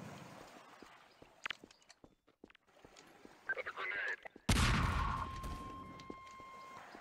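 In the video game Half-Life 2, scattered gunshots and clicks give way to one loud, close grenade blast with a ringing tail, while a person talks over the action.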